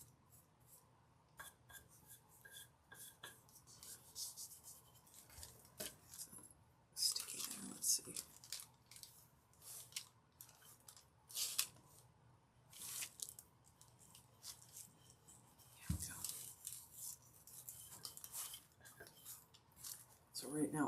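Brush rubbing and breaking off excess gold leaf while gilding a nutcracker figure, making soft close scratchy swishes and crinkly flicks in irregular bursts, with quiet talk now and then.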